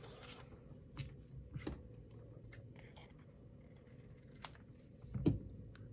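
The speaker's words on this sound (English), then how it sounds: "I'm going to go ahead and cut this a little smaller." Scissors cut craft paper in a few quiet, brief snips and rasping strokes, spaced irregularly against a hushed background.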